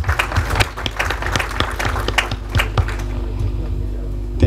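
A conference audience claps for a speaker, a busy patter of hands that carries on at a steady level for several seconds before tapering off.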